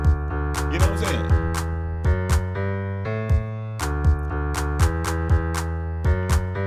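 A hip hop beat plays alone, with punchy kicks and snares in a steady rhythm over sustained bass and layered keyboard chords, loud and up front.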